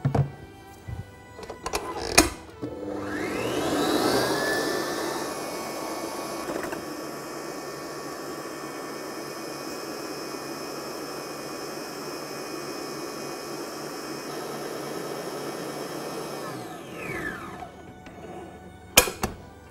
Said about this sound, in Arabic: هناخد بياض البيض هنضربه لحد ما يبقى هش، وبعد كده هنبتدي نضيف له السكر شوية شوية